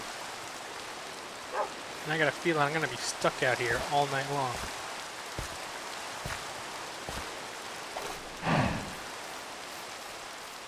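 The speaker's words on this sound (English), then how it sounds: "Now it's raining" Rain falling in the video game Minecraft, a soft steady hiss under someone talking at moderate volume, with a few faint thumps and ticks scattered through.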